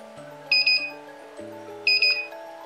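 A DIY 300VA UPS low-battery warning buzzer sounds twice, each time a quick trio of high electronic beeps over a faint background hum.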